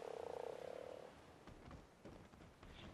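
A frog in the ARK survival video game croaks in a rapid, pulsing run near the start, followed by softer game sounds of footsteps and movement.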